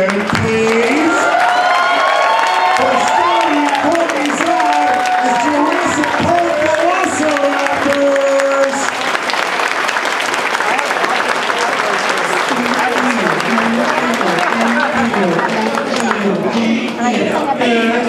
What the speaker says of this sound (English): Ladies and gentlemen, how about a standing ovation, please?